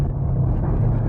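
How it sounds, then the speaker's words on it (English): Loud, deep exhaust drone from a modified 2009 Chevrolet Corvette Z06, a steady heavy rumble filling the whole moment with no voices over it. "holy crap, that exhaust is loud"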